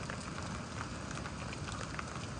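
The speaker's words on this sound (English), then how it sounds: "So yeah, it's raining still" Rain pouring during a thunderstorm in Houston, a dense, steady hiss of drops on surfaces that holds an even loudness throughout with no talk.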